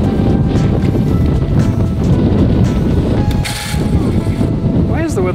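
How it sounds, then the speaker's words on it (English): Strong wind blows outdoors at a farmhouse, roaring and buffeting the microphone in a loud continuous rush with brief lulls and gusts, with a voice briefly at the end. "Man, is it ever windy, eh?"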